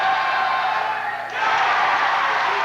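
A high school basketball crowd in a gym roars and cheers as a free throw misses, one continuous loud wash of voices that dips briefly and then swells again.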